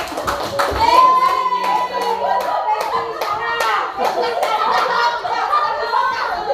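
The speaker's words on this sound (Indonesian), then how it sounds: "Oke, tepuk tangan dulu." Participants at a school webinar on positive culture clap their hands in a burst of applause, with children chattering and laughing over the claps.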